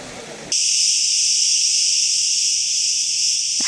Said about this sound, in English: I've never heard cicadas or tzitziki to be so loud